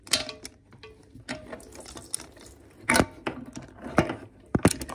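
A socket wrench works at a crusty 11mm bolt, sharp ratcheting clicks coming in uneven bursts and clusters, close and fairly loud against a quiet background.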